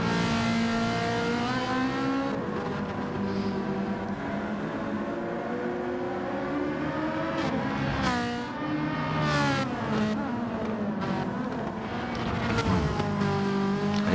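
Several race cars in a sim racing league game, their engines a continuous, high, revving whine with shifting pitch and audible gear changes, the cars running close together without a break.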